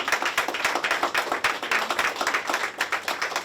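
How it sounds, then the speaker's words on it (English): A crowd applauds steadily at a 911 center graduation ceremony, dense overlapping claps at full strength throughout with no pause or talking. "Round of applause for everybody."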